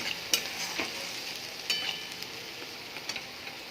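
Onion paste being stir-fried in oil in a pan for doi katla, a steady close sizzle broken by repeated scraping strokes of a spatula, with no talking.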